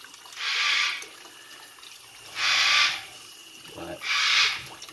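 Tap water runs in three separate bursts of about half a second to a second each, with quieter gaps between, while hedgehogs are being bathed at a sink; faint voices murmur underneath.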